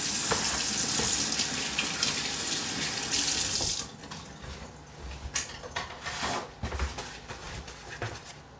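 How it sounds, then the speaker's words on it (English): Tap water runs hard into a pot holding eggs, a loud, steady gush for several seconds. The flow then cuts off, followed by quieter clanks and handling sounds of the pot. "now we're going to take the eggs, fill it up with water"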